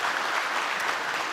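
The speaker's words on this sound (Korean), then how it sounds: "우리를 사용하신 그 하나님께 영광의 박수 다시 한번 올려드리면 감사하겠습니다." A church congregation applauds during a Sunday service, even continuous clapping from many hands filling the room at moderate level, with no voices over it.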